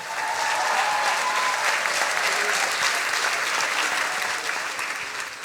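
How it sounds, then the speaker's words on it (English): Applause from the audience at a science slam as a presenter is welcomed on stage, a dense, steady wash of clapping that fills the room without a break. "Please a big applause for Alina Pushkarev."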